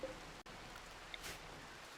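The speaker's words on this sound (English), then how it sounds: "it is still raining" Steady, soft rain falls in a colony-building video game, a constant faint patter with no talk over it.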